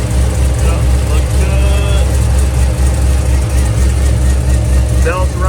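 A Corvette Z06 engine runs steadily after a water pump replacement, a loud continuous low rumble with an even belt drone and no breaks.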